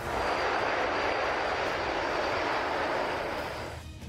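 A Chinese Y-8 military aircraft in flight gives a loud, steady broadband engine roar that holds evenly throughout and eases off slightly at the very end, with no voices.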